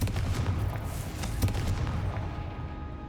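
A Confringo blasting spell from Hogwarts Legacy, a booming explosion with sharp cracks over a low rumble that fades out into a decaying tail.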